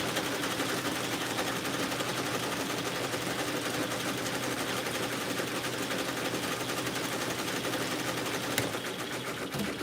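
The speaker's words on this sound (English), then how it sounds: "800 stitches a minute, though." Embroidery machine stitching beanies at 800 stitches per minute, a dense continuous mechanical whir and rapid chatter at constant loudness, close by, with no talk.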